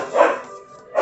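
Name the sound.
dogs barking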